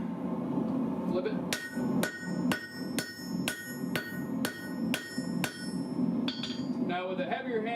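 Heavy hammer blows forging hot steel at a forge, about ten sharp ringing strikes at a steady rhythm, close and loud, with a low background rumble between blows.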